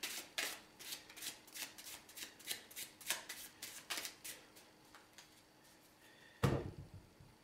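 A normal deck of playing cards is shuffled in a rapid series of crisp riffling bursts, close and fairly quiet, followed by a single louder thump at the end.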